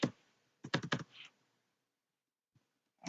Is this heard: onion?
no